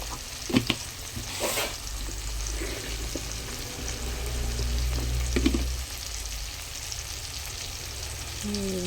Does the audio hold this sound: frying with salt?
yes